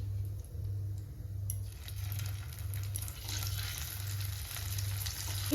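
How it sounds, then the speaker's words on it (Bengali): Cut potatoes frying with cumin in a pan over a low gas flame, a steady soft sizzle with a low pulsing hum underneath, close and continuous. "গ্যাসের ফ্লেম কম করে আমি কেটে রাখা আলুগুলো মধ্যে দিয়ে দিচ্ছি"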